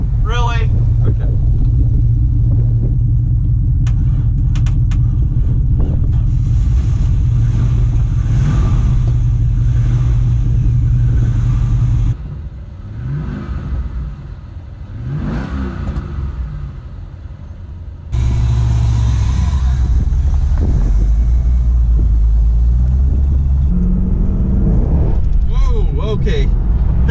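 A Chevrolet Corvette Z06 engine loud and close, rumbling at idle, then briefly quieter before revving up again, with deep low-end throb and sharp throttle blips.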